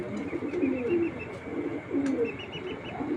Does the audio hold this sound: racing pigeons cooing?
yes